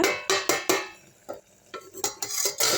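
Spoon stirring chicken in a pan for a thuthuvalai leaf chicken chops dish, a few distinct scraping strokes against the metal, close and clear with a soft sizzle between them.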